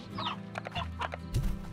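Hens in the farming video game Slime Rancher cluck in short bursts, several close calls overlapping a low background hum with no voices.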